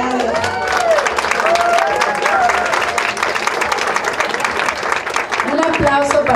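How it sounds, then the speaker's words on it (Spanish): A crowd at a Frida Kahlo costume event at the Mexican consulate in San Jose applauds, steady clapping and cheering throughout with voices talking over it. "Un aplauso para él"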